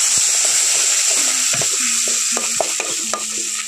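Ground cumin with green and dried chili paste and a splash of water sizzles loudly in a pan, a steady hiss broken by several scraping stirs, for a Bengali dish of shol fish with raw mango.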